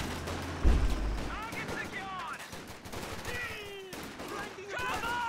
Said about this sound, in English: Luchs out here firing at max range, not getting his machine gun involved in this.